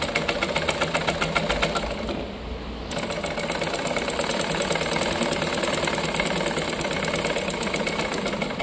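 Sewing machine stitching a folded half-inch hem on anarkali frock fabric, running steadily with a rapid mechanical chatter that briefly pauses near the middle before resuming, close and continuous with no talk.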